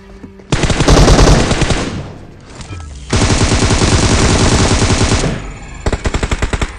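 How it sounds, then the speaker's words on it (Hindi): Loud automatic gunfire in the mobile game PUBG Mobile comes in two long, rapid bursts separated by a brief lull, then a shorter burst of distinct shots at the end. "यहाँ की तरफ से बोट फायर आते हैं"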